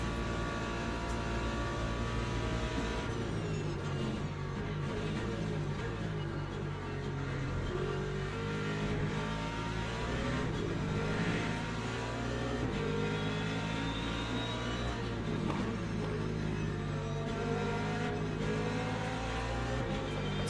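LMP2 prototype race cars in Le Mans Ultimate at Monza, their engines droning and revving with shifting harmonic tones as they approach and pass, a steady, loud mechanical whine throughout.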